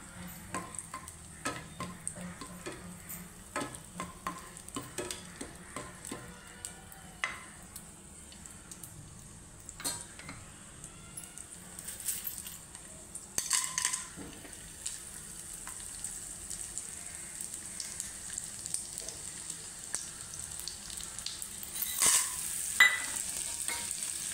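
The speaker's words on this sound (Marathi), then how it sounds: "तूप गरम झाल्यानंतर त्याच्यामध्ये डिंक घालून घ्यायचा" Edible gum pieces fry in hot ghee, giving a faint, steady crackle and sizzle with scattered small pops and occasional scraping, close but quiet, with no voices.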